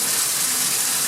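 A top-loading washing machine with a faulty lid switch, one that won't drain or spin, fills with water in a steady, continuous gushing rush that holds an even level throughout, close and fairly loud, with no voices.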